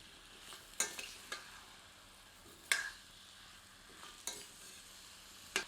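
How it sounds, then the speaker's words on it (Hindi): Mutton being stirred with salt in a pan for Deoghar-style mutton atthey, heard as a few sharp scraping strokes spaced over a low, quiet sizzle, fairly close and without any talk. "अब स्वादानुसार नमक सम्मिलित करते हैं। इसे बकरे के मांस के साथ अच्छी तरह मिलाकर समान रूप से फैला देते हैं।"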